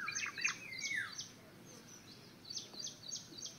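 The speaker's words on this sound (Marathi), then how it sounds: "मला पक्ष्यांचा आवाज खूप आवडतो." Several small birds chirp outdoors in short, bright bursts, fairly faint and distant over a quiet background, with brief pauses between the calls.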